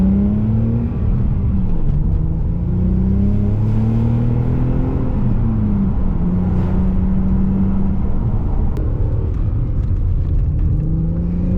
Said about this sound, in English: Let's just go for a short drive, just so you can hear some sights and sounds